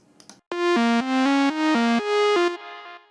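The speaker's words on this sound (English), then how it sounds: "adding some diode 1 distortion, a multiband compressor, and a low pass filter." A gritty, thick synth plays a stepping melody of held notes after a brief quiet blip, distorted with diode distortion, multiband compression and a low-pass filter muffling the top, alone.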